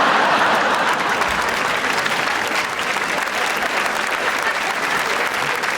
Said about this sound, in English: You see how they all started clapping?